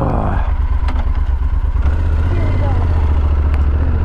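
A KTM motorcycle engine rumbles loud and close with a steady throb, the pitch shifting partway through as it revs.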